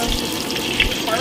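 Sichuan peppercorns sizzle in hot rapeseed oil and lard, a close, steady crackling hiss.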